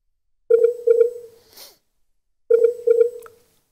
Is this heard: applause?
no